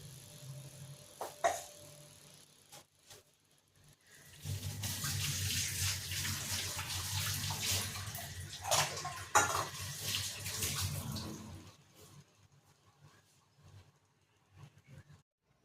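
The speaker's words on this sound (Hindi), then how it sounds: "5 अंडे को और इन सारे को धो के मैं रखूँगी।" Eggs are washed under a running kitchen tap while preparing a Bengali-style Mughlai paratha, giving a steady rush of water for about eight seconds with a few light clinks, framed by quieter moments before and after.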